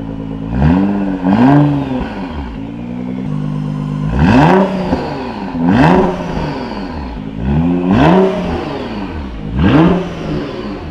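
A Nissan GT-R engine idling and being revved repeatedly, with loud rising and falling blips every second or so over a steady, close-up idle rumble.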